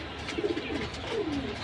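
Soft cooing from a pair of red and silver pigeons, a few short throaty phrases close by and fairly faint against a quiet background.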